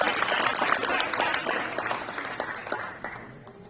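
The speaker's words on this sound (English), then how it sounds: "let's give a round of applause to Claudia Stein for her scholarship to go to U-Pike." Applause at a high school signing day ceremony for a student's college scholarship, a steady round of clapping from a gathered crowd that holds for a few seconds and then slowly fades.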